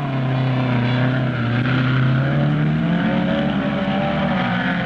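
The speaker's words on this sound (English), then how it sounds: "All the cars are powered by engines of 1100cc, and most of them are the well-known Cannon specials." Small 1100cc trials cars, mostly Cannon specials, labour through deep mud at a 1965 RAC trials championship, their engines droning loudly and steadily with rising and falling pitch as they strain close by, with no talk.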